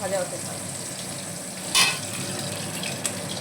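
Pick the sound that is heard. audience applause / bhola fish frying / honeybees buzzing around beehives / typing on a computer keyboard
bhola fish frying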